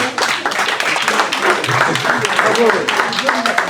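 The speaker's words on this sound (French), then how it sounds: "je voudrais qu'on applaudisse bien fort" A crowd at a baptism claps for a family, with a dense burst of hand claps mixed with overlapping voices and cheering nearby.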